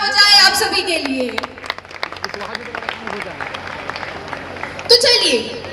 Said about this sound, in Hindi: तो एक बार जोरदार तालियां हो जाए आप सभी के लिए।